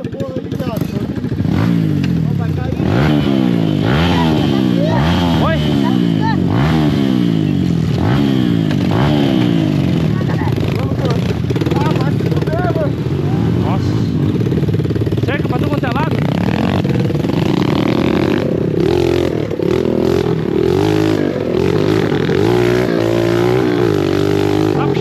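Honda CRF dirt bikes rev loudly and continuously on a trail ride, with engine pitch sweeping up and down in repeated surges while voices shout over the roar.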